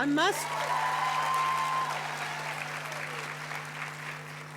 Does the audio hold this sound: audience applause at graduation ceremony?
yes